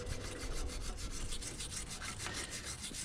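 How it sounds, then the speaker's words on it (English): Wire brush scrubbing the pad contact areas on the front brakes of a 2015-2022 GMC Canyon or Chevy Colorado pickup, a steady rapid rasping of back-and-forth strokes, close and continuous. "grab yourself a little wire brush. We're going to clean up the areas where the pads rub against, just to make sure it's nice and clean."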